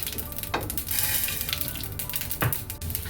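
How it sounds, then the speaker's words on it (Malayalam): Mustard seeds and urad dal fry in hot coconut oil for a jackfruit thoran, a close, steady sizzle with a couple of sharper pops and crackles and no talking. "കടുക് പൊട്ടി വരുമ്പോൾ 1 സ്പൂൺ ഉഴുന്ന് പരിപ്പ്."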